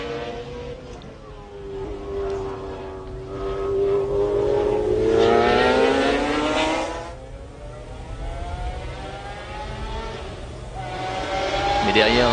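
A McLaren race car at the 1995 24 Hours of Le Mans, its engine rising and falling in pitch as it passes, loud and sustained under a commentator's talk.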